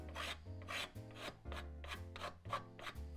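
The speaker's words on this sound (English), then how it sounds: "Time to scrape the hole outside with a card scraper." A steel card scraper works across the outside of a small wooden Pi camera box in about six even, rhythmic rasping strokes, each one close and distinct.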